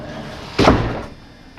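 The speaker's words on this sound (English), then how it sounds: "Close the door so nobody breaks in." A door closes with a single loud, close thud and a brief rumbling decay in a recording studio, heard on its own.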